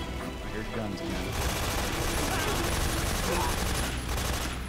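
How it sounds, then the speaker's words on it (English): Bursts of gunfire from the video game Metal Gear Solid 3: Snake Eater, a thick fusillade that swells after the first second and carries on steadily against a busy game background with a voice faintly underneath. "I hear guns again."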